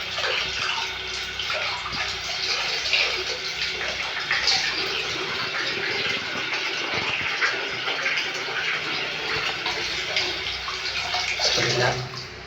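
Water pours steadily from a shower fed by a 50-litre tank water heater, a continuous close hiss and splash that fills the whole stretch without pause.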